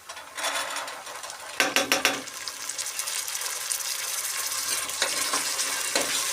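Green peas hit hot oil with lightly browned onions in a pan, a loud crackling sizzle with a few clattering bursts as they are stirred.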